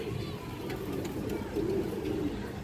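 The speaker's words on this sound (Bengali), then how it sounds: "খুবই সুন্দর একটা মাদি কবুতর।" A female pigeon coos softly, low and faint, in short repeated murmurs amid quiet background noise.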